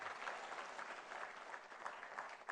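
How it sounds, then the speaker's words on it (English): Conference audience in Banjul, The Gambia, applauding steadily in a large hall, a dense, even wash of clapping from many people that holds for a couple of seconds at moderate distance. "And please, I request you to give a big round of applause from Uganda, Honorable Sarah Opendi."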